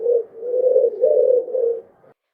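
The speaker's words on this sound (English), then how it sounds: "Here's a pigeon." A pigeon coos in low, soft phrases, about four rolling hoots running into each other, close and clear before falling silent.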